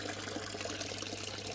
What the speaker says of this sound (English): There's not much water coming out of there, is there?